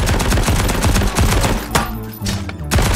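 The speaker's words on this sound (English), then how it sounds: "Someone's firing at us." Automatic gunfire in the video game Hard Bullet, with loud, close, rapid bursts of shots, a short gap with scattered single shots, then the bursts resume.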